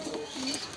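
Pet pigeons cooing close by, a soft, low rolling coo that rises and falls over a steady murmur of background noise, with no voices.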